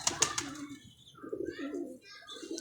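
A pigeon coos softly nearby in a few low, throaty murmurs, with a couple of sharp clicks at the start.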